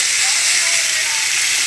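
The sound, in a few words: potatoes sizzling in hot oil in a wok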